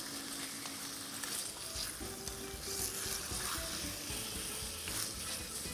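Chicken frying in a pan, a dense continuous sizzle with faint stirring underneath, steady and close throughout without talking.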